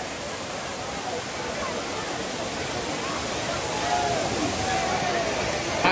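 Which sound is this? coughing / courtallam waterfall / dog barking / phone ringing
courtallam waterfall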